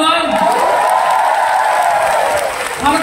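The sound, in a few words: audience applause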